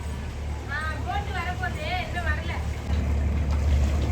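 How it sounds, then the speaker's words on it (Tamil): A low, rumbling speedboat engine on the Alappuzha backwaters drones in the background and grows louder toward the end as the boat returns, while people talk over it nearby. "ஸ்பீட் போட்டில் எல்லாம் ரவுண்டு போயிட்டு வந்துட்டுருக்காங்க."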